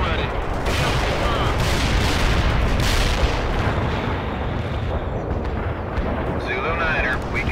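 Artillery barrage in the World in Conflict war game, a sustained thundering roll of explosions and gunfire, loud and unbroken, with radio voices speaking over it.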